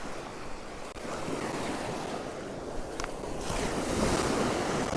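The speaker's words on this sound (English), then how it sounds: "Got some waves rolling in" Surf rolls steadily onto a beach on the north Norfolk coast at Waxham, a continuous broad wash of breaking waves with wind buffeting the microphone, growing slightly louder toward the end.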